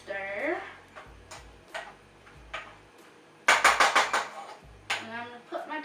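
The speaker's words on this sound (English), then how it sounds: "I'm just going to give it a quick stir" A spoon stirs apples, cinnamon, sugar and lemon in a pot, giving scattered clinks and scrapes against the metal with a louder burst of rapid knocking midway.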